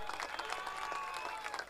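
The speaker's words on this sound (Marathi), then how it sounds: "एकदा जोरदार टाळ्या" A crowd at a cricket league prize ceremony breaks into brief applause, a dense patter of clapping with faint crowd noise and distant voices mixed underneath.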